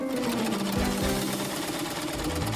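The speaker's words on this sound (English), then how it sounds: "It's time to start sewing." A sewing machine running steadily at close range, a continuous buzzing mechanical drone that holds for the whole stretch, with no talking.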